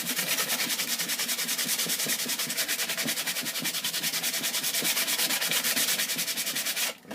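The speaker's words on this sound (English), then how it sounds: "So I'm just going to sand that off." Steady sanding of wood to remove tear-out around a drilled dowel hole, a continuous close scratchy rubbing with a fast back-and-forth rhythm that runs for several seconds and stops abruptly at the end.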